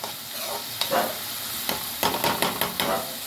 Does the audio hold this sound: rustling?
no